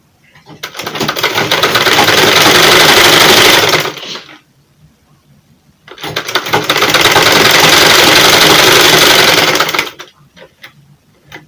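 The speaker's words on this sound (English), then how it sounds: "Then you place it in, then you sew it." Sewing machine stitching seams on a two-piece dress, running in two steady, loud bursts of about four seconds each with a rapid mechanical whir, separated by a brief pause and faint handling noise.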